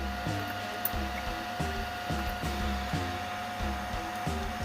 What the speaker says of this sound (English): Spit some wire out, make sure it feeds, and clip her off.